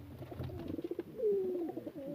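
Soft pigeon coos murmur close by at a loft where nesting pigeons sit on eggs, with a longer drawn-out coo rising clearly near the end over a low rumbling background.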